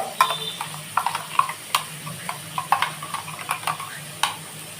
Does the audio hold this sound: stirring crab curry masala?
yes